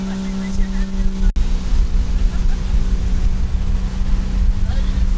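A motorboat engine drones steadily while cruising at about 22 knots, a low constant hum mixed with wind buffeting the microphone. There is one sharp dropout early on, then the engine carries on unbroken.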